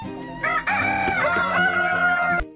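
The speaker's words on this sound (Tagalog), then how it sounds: "ito naman nga pala yung kanilang pangmalakasan na tandang na Rhode Island Red" A Rhode Island Red rooster crows loudly and close by, one long drawn-out call that ends abruptly.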